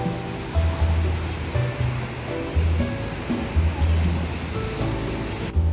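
Steady rain pours down outdoors at an old railway in Singapore, a dense continuous hiss with soft low thumps rising and falling throughout, close and moderately loud.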